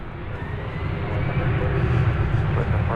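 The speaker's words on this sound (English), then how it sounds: "There's an Airbus A319, American Flight 2200" An American Airlines Airbus A319 jet gives off a low, steady engine rumble that swells slightly, heard under someone talking.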